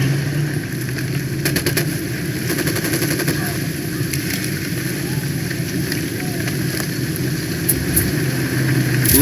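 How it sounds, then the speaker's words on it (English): A squad opens fire in Ghost Recon Wildlands, with rapid bursts of gunshots crackling over a constant engine-like rumble and voices talking throughout. "I'm opening fire"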